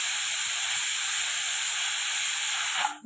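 A pressure cooker whistle releases steam on a home stove where lentils are cooking: a loud, steady, high hissing jet that holds for about three seconds and then cuts off suddenly.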